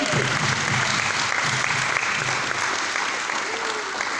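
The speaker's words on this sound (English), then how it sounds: "Give her a round of applause." An audience at a political address by the St Michael South MP breaks into sustained, dense applause, even and loud across the whole stretch, with a voice faintly underneath.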